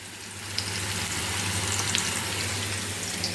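Steady, close sizzling of food frying in a pan, with faint crackles and pops over a continuous hiss.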